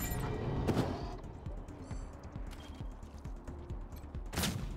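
Rapid gunshots in the post-apocalyptic tactical game Wasteland 3, a burst of many sharp, closely spaced cracks with two louder blasts at the start and end, set against a steady game background.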